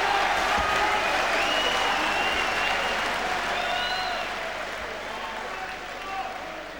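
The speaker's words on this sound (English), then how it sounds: "Listen to the crowd here." A boxing crowd roars and cheers through a Colin Dunne round against Billy Schwer, a dense, loud wall of applause and shouting with a commentator talking over it, easing slightly toward the end.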